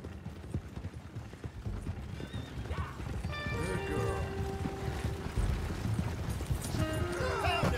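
A horse in a video game clip-clops at a trot with steady hoofbeats, then lets out a loud neigh, over a busy game soundscape of mechanical clatter, with a voice speaking faintly underneath.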